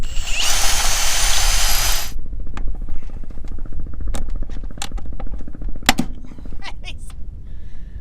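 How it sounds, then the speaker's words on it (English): Power drill drilling out sheared rivets on a sailboat mast: a loud, close whine for about two seconds, then a series of sharp clicks and snaps over a steady low rumble. "So we're going to drill those out"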